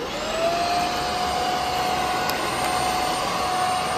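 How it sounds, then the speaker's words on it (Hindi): A handheld vacuum cleaner runs over a bed, its motor whining up to speed at the start and then holding a loud, steady whir throughout with no talk. "तो ये स्विच दबाने से ये वैक्यूम क्लीनर वाइब्रेट होगा, जिससे इजीली सफाई हो जाएगी।"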